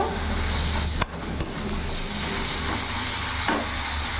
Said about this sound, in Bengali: এবার মশলা সব কিছু ভালো করে মিশিয়ে নেব।